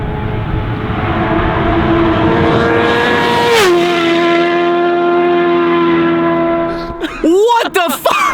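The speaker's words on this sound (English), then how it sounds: "It sounds like an F1 car in the distance." A 400-pound superbike's engine screams with a high, steady whine that drops sharply in pitch as it passes, then fades against a rushing wind-like roar, followed by a few brief scraping knocks.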